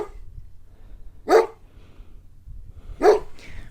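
A large dog barks outdoors in Andalusia, Spain: two loud, sharp single barks about two seconds apart, close by and separated by quiet.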